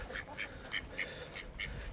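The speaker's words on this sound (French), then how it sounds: "Il y a le canard là qui fait du bruit." A duck quacks near a chicken coop where rats run along the wire fence, giving about six evenly spaced, moderately loud quacks over steady outdoor background noise.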